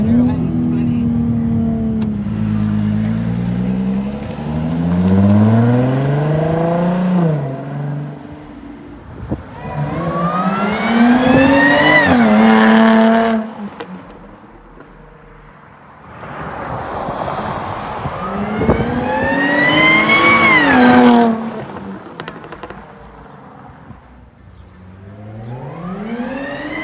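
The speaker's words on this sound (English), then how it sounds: "The Supercharger Whine's funny." A Jaguar F-Type with an aftermarket intake gives a loud supercharger whine that climbs steeply in pitch under acceleration in repeated surges, with wind noise and people talking over it.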